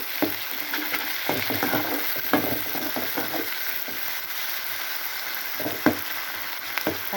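Tomatoes sizzle steadily in a hot pan for egg curry, with occasional clicks and scrapes as they are stirred. No one speaks.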